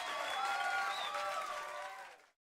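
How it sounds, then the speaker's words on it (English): Stock clapping and cheering effect from Dragon Quest 3 HD-2D Remake: a dense burst of crowd applause with bright cheers, loud and steady for about two seconds before cutting off abruptly. "The stock clapping and cheering sound is funny though"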